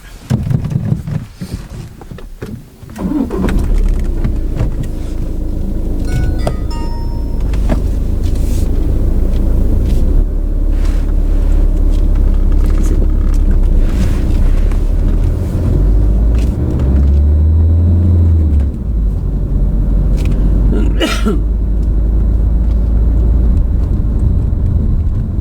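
A learner driver's car pulling away and driving along the road, with steady engine rumble and road noise building and holding loud throughout, plus occasional clicks and short voices at the start.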